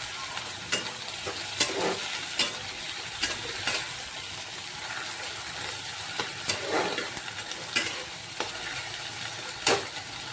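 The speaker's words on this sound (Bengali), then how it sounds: "এই যে আমার সজনের শাক ভাজা হয়ে গেছে।" Drumstick leaves fry with salt and turmeric, giving a steady, close sizzle broken by repeated scrapes and stirs, with no voices.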